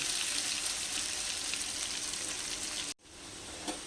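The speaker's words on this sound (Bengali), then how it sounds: "আমি লোহার কড়াইয়ে আলুগুলোকে ভেজে নিচ্ছি" Potatoes frying in an iron wok make a dense, steady sizzle up close that cuts off abruptly near the end and then resumes more softly.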